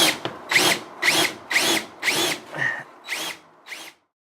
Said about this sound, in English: This one will definitely show me how effective it is at drilling.